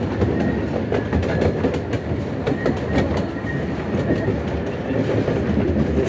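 Small-gauge Redwood Valley Railway steam train rolling along in Tilden Park, a steady rumbling clatter of wheels on rails that stays loud and continuous throughout, with no voices.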